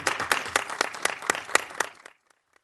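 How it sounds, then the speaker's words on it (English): An audience gives a short burst of clapping, a few distinct sharp claps in a steady rhythm lasting about two seconds before stopping abruptly. "give these guys a round of applause"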